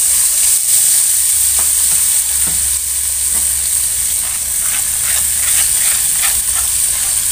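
Shallots and garlic fry with a ground spice paste in hot oil, a loud steady sizzle and hiss close up, with occasional stirring scrapes and no talk.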